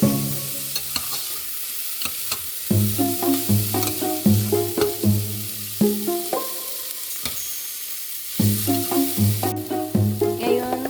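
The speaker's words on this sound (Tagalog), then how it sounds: "gisa natin yung sibuyas at ahos" Onion and garlic sauté in a pan for mutton adobo, a rhythmic run of loud spatula scrapes and clangs against the metal over a bright sizzle, with short pauses between bursts of stirring.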